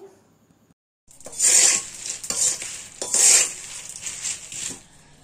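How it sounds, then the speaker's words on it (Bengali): Peanuts are dry-roasted in sand in a pan. After a second of near silence, a spatula scrapes and stirs the gritty sand in repeated rasping strokes with a hissy, sandy texture, close and fairly loud. "আর এইদিকে এই যে বালিতে বাদাম ভেজে নিচ্ছি।"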